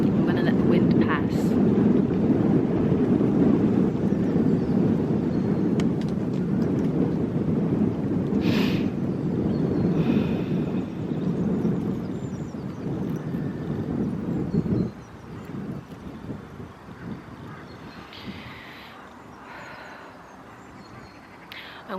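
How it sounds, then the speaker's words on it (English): Wind blowing outdoors as a loud, steady low roar that rushes for a long stretch, then suddenly drops to a softer, quieter gusting. "I'm going to let the wind pass."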